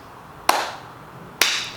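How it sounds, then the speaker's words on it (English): Two sharp, deliberate hand claps about a second apart form a slow clap, close and crisp, each with a short ringing decay, with no talking. "We gotta slow clap this one"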